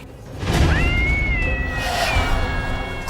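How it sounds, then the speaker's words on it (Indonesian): A cat meows with a drawn-out, wavering cry, over a noisy, rumbling background. "Kok ada suara kucing ya?"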